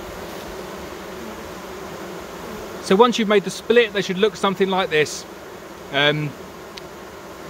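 Queenless honeybees in a freshly split hive make a constant buzzing hum close by, and a person speaks over it partway through.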